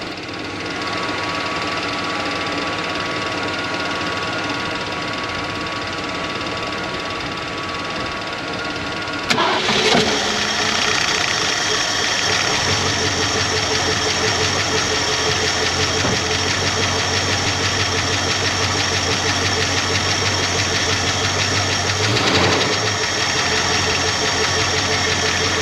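A 1966 Ford Mustang with a 289 V8 running, fed directly into the carburetor: a loud, steady engine drone that jumps abruptly in intensity partway through, then keeps running rough and continuous with a brief surge near the end, no talking.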